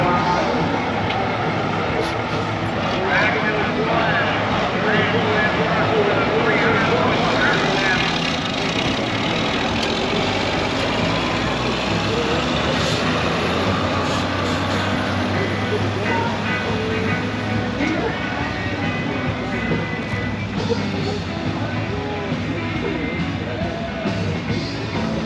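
A pulling truck's engine roars continuously at a tractor pull, a loud, sustained, broadband drone with a steady mechanical rumble holding for the whole run.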